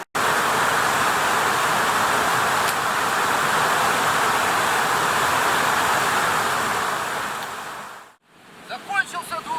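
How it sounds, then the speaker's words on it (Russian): A steady, dense rush of falling water from a mountain waterfall in the Sokuluk gorge area, Kyrgyzstan, roars continuously for several seconds before dropping away into quieter outdoor sounds. "Белогорский водопад первый."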